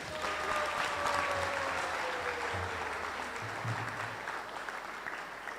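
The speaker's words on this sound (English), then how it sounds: "I think we can give them a bigger round of applause." Sustained applause from a temple crowd at a Balaram Appearance Day gathering, a broad, even wash of clapping with a faint tonal hum running beneath.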